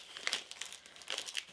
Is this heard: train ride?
no